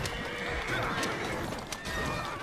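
Carriage horse neighing in Assassin's Creed Syndicate, a bright whinny rising over steady street and hoof noise, fairly close and continuous for a couple of seconds.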